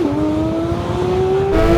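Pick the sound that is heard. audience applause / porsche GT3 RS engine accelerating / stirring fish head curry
porsche GT3 RS engine accelerating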